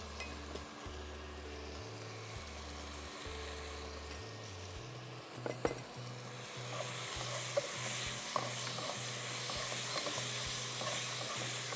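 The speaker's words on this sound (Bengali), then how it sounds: "মশলাটা এখন ভালো মতো কষিয়ে নিতে হবে।" Cumin and coriander powder masala sizzles steadily as it is sautéed in a pan, a constant frying hiss with scraping stir strokes over a low background hum.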